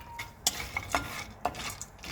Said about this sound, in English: For even toasting, keep stirring or tossing nuts and seeds continuously.